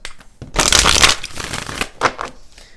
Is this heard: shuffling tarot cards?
yes